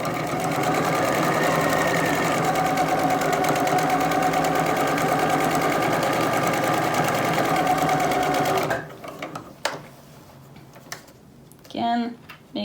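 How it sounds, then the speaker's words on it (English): Sewing machine stitching face mask fabric, a loud, rapid, steady mechanical whir running for about nine seconds, then stopping, followed by a few quiet handling clicks and a brief voice. "So put this under my machine, put my needle down, and then we're gonna go."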